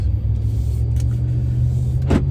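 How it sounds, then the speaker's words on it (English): A truck drives out of a subdivision, a steady low engine rumble heard from inside the cab, with a brief higher whoosh near the end. "Last time driving out of the subdivision with my truck."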